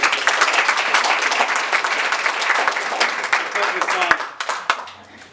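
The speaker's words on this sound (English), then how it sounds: "we deserve her a big round of applause" Loud, sustained applause from an indoor crowd at a Texas Treasure Business Award presentation for a local newspaper, a dense steady clatter of many hands that tapers off near the end with a few scattered claps.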